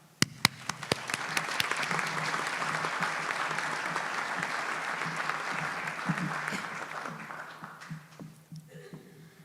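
An audience at a presidential inauguration breaks into sustained applause, many hands clapping densely for about eight seconds before tapering off at the end.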